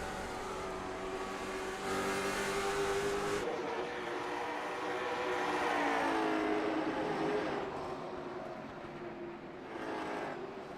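Race cars roar around a short track at Five Flags, engines droning and rising and falling in pitch as they pass, with a louder swell near the middle and faint commentary underneath.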